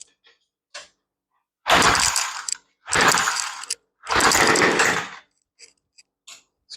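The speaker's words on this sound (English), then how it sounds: "Let's choke her down and give her a pull and hope for the best." Three hard pulls on the recoil starter of a tiller engine that won't start after sitting two years, each a loud whirring rattle of about a second, separated by short pauses with faint clicks in between.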